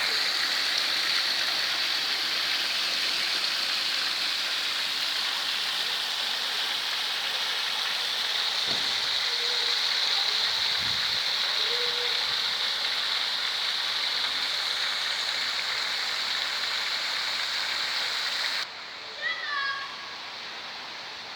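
Water splashing steadily in the fountain of Piazza Garibaldi in Gemona, a continuous hiss close by with a few faint knocks mixed in, and the rush drops away near the end.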